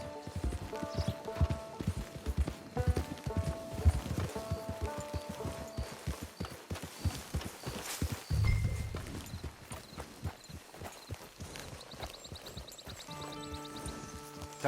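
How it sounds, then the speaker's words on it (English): Horse in Red Dead Redemption 2 walking with crisp, regular clip-clop hoofbeats close by, then a brief snort or whinny midway before the steps resume more softly alongside faint tonal game music. "It's your horse."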